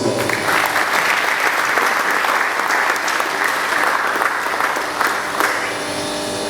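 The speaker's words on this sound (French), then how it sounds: "M. Katuchi, je vous demande aussi vos applaudissements, s'il vous plaît." Sustained applause from a conference audience in Kinshasa, dense clapping at a steady loud level throughout, tapering slightly at the end.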